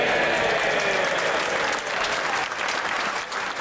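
Loud, sustained applause fills a large room for a departing former Prime Minister, a thick steady wash of many hands clapping that eases slightly toward the end.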